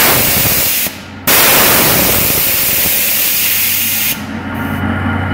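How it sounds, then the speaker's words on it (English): A pressure release valve on an Omax GlobalMax waterjet vents air in a loud, steady hiss that briefly cuts out, then resumes and eases to a slightly softer rush near the end. "we are going to pull this up. So this is the pressure release. It's a little bit hard to pull, and it's quite loud."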